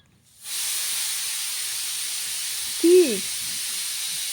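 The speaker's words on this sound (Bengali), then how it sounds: "কুকারের সিটি ভয় পেয়ে যাচ্ছ?" Pressure cooker whistle in a home kitchen, a steady loud steam hiss rising suddenly and running on, with a brief warbling squeal and a short spoken word over it.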